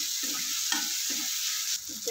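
Turmeric and asafoetida are stirred into a spice tadka frying in hot oil for dal fry. A steady loud sizzle runs throughout, with rhythmic scraping strokes of a spoon against the pan, about four in quick succession.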